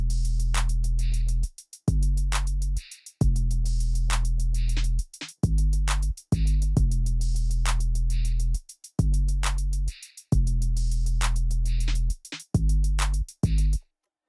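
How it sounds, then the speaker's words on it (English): A punchy drum beat repeats with heavy booming kicks, crisp snare hits and rapid ticking hi-hats, loud and close, with short gaps between phrases. "the drums sound like this."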